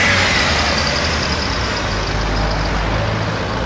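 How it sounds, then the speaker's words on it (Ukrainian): Heavy traffic of cars and trucks driving past on a street in Poland: a loud, continuous broadband roar of engines and tyres with a low rumble, close by and steady throughout. "Машини їздять."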